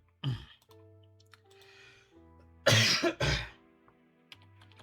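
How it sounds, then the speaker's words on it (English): A few harsh bursts of throat clearing, one early and a louder double burst in the middle, over a faint background hum and light clicks. "I'm gonna clear my throat real quick."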